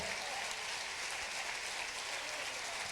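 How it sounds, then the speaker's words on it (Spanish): Congregation applauding during a church service at an Assemblies of God church, continuous broad clapping from many hands, steady and even, heard faintly at a distance throughout. "Fuerte, fuerte ese aplauso"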